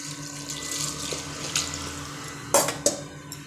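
Water runs steadily into a metal pressure cooker for rice and lentils, a soft continuous splash with a few sharp clanks of metal near the end.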